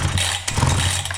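A Husqvarna 61 chainsaw engine sputters briefly during an attempt to start it, a rough low rumble with a short catch, no voices.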